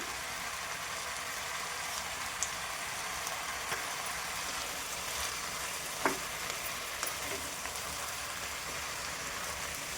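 Vegetables fry in oil, giving a dense, even sizzle like steady rain. A few faint clicks of stirring come through, and no one speaks.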